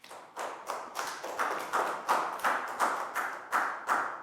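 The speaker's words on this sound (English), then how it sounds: "Big round of applause for Pat" Rhythmic group clapping in a Year 4 maths classroom for a pupil, about a dozen evenly spaced claps in unison at a steady beat, fairly close and clear with no talk.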